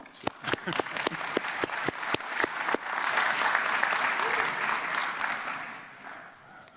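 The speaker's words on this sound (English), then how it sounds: "Yes, you can applaud." An audience at an energy conference talk claps, sharp separate claps at first that quickly thicken into steady, moderately loud applause from a room full of people.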